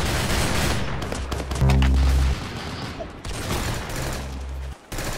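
Rapid gunfire bursts from Roblox Arsenal gameplay, a dense fusillade of shots with heavy low booms and crackling, layered volleys that stay loud throughout and briefly drop out near the end.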